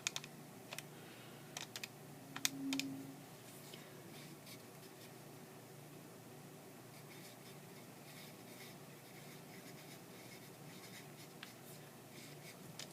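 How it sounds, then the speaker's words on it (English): Quiet plastic keypad taps on a calculator come in a quick cluster early on, then a few scattered clicks over a faint room hush, with no talking. "Type that into my calculator."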